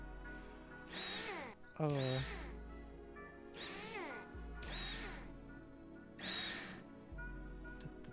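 In Rover Mechanic Simulator, a power drill spins out a rover's cover screws in five rising-and-falling whirring bursts, each followed by a short pause. A brief exclamation is heard partway through.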